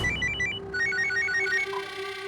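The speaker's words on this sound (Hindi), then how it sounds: "दरअसल उनका दोबारा से फोन आया था" A telephone ringtone chirps in a bright repeating melodic pattern, loud and close, with no voices over it.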